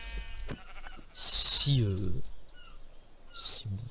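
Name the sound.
sheep bleating in a video game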